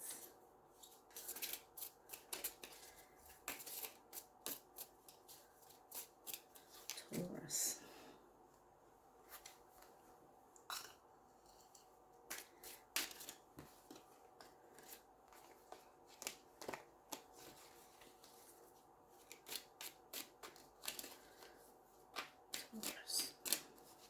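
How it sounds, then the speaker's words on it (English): Tarot cards being shuffled over and over, a steady run of soft riffling clicks and snaps, close up and fairly quiet. "Please excuse me while I shuffle my cards."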